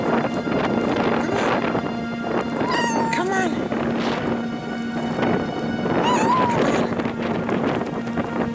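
A cat meows in a blizzard, two short high cries about three seconds apart heard close, over steady roaring wind noise and a low hum, with a person talking through the clip.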